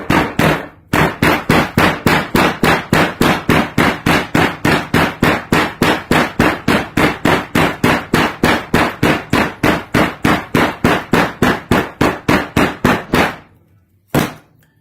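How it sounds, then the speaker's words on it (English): A hammer strikes steadily while a briefcase is being made, dozens of loud, evenly spaced blows in a fast regular rhythm that run for most of the stretch, then a short pause and one last hit. "Again, come in with the Grandpa hammer."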